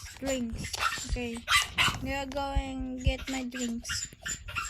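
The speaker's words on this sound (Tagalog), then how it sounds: "sa aso kong nagtatahol" A dog barks several times close by, with a person talking over and between the barks.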